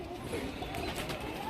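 A surmi male pigeon coos in a low, continuous murmur close by, with someone talking over it.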